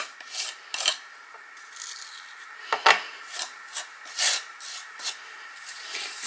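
Gritty, chalky sand texture paste scraped and spread with a palette knife to build relief, a series of close rasping strokes in uneven bursts with quiet pauses between them.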